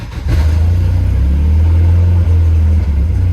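Volvo 740 Turbo engine running steadily with a deep, loud droning idle-to-rev tone, exhaust routed out the side; after a brief start the engine note holds strong and close throughout with no talk.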